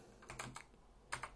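Keystrokes on a computer keyboard while entering an Apache htaccess configuration line on Fedora 17, in two short bursts of quick clicks separated by a pause, close and fairly quiet, with no talk.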